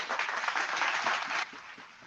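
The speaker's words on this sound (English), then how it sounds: "Give a round of applause for the panel." Studio audience applause for a panel coming on stage at a talk show, a dense burst of clapping that fades to softer scattered claps in the last half second.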